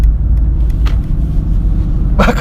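Low, steady engine rumble from a 2016 Mercedes-AMG GT S at idle, close and continuous, with a brief brighter burst of mechanical noise near the end.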